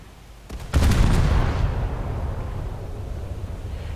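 Twin and triple 25mm anti-air cannons fire from a Japanese light cruiser in War Thunder: a sudden loud burst of rapid gunfire that blends into a dense roar, then a sustained rumbling wash as it fades a little.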